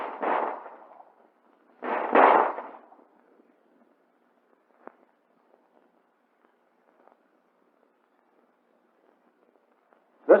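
Colt 1911 handgun shots ring out as sharp, separate reports, one at the start and one about two seconds in, then another at the very end, with near silence between them.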